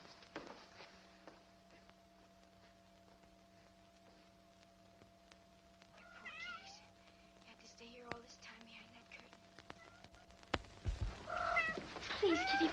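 Several cats meow and caterwaul in a 1940s noir film scene, a few scattered cries in the middle and a louder cluster of yowls near the end, heard under quiet whispered voices.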